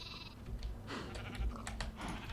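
Sheep bleats from the video game Minecraft running the Thaumcraft mod, a few short, quiet cries over a low background hum.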